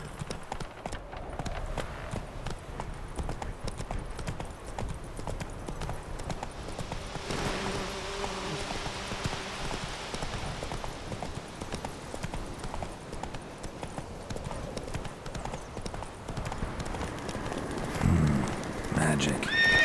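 Horse hooves trotting in The Witcher 3, a steady clip-clop that runs throughout beneath voices and dense game ambience, with a possible whinny near the end.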